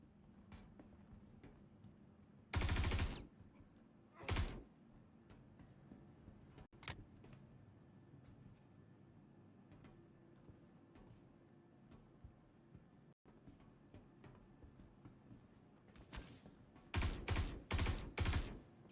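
Game gunfire in Star Citizen during a firefight: a few loud sharp bursts early, a lone crack midway, then a rapid cluster of four or five shots near the end over a low rumbling background.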